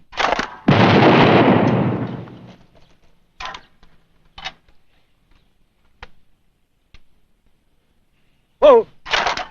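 Gunshots on the soundtrack of a 2025 American sitcom: a long loud burst of noise, then several short sharp cracks scattered with quiet gaps, and a final pair of close bangs near the end.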